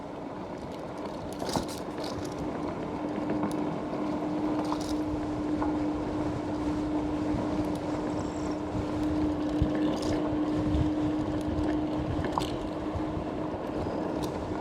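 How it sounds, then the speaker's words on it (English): Strong wind roars steadily across a CityCoco 72V electric scooter riding uphill, a constant broadband rush buffeting the microphone with a faint motor whine running underneath, no talk. "too big of a wind, I would say"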